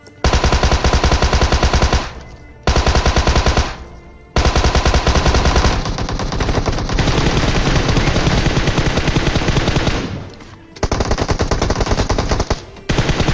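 Gunfire from a battle royale video game match comes as loud, sustained automatic bursts with brief gaps between them, dense and close.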